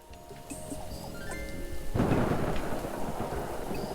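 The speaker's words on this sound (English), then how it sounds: "I like rain as much as the next person. And I honestly like a good storm" Thunder rumbles loudly through a thunderstorm, swelling into a broad roar over steady falling rain, with faint tonal game sounds chiming in the background before the thunder builds.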